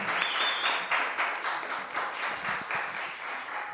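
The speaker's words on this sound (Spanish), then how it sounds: "Pido un fuerte aplauso para él." University audience at a student humanities colloquium gives a speaker a steady round of applause, moderately loud and even, with faint crowd murmur.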